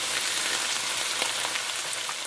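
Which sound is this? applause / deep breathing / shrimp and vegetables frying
shrimp and vegetables frying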